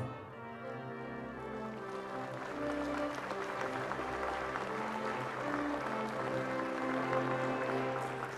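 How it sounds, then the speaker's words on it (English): Continuous crowd applause at a Hawaii governor's inauguration ceremony, steady and sustained beneath sustained musical tones, moderately distant with no breaks. "How about another round of applause for former Governor George Ariyoshi"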